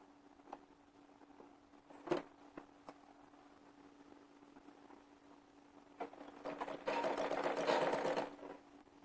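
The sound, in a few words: sewing machine stitching kurti fabric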